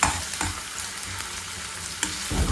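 Onion and ginger-garlic paste fry in oil, giving a loud, continuous close sizzle broken by several spoon scrapes and stirring knocks against the pan.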